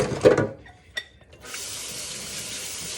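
Water runs from a sink tap while dishes are rinsed: a splashing burst and a clink, a brief pause, then a steady, fairly loud stream pouring continuously.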